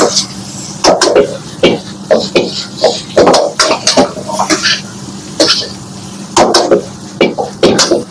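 Red and yellow capsicum, tomato and noodles are stirred in a pan for a blue moon special chowmein, giving repeated sharp knocks and scrapes of a utensil against the pan in an irregular rhythm, close and fairly loud, with no talking.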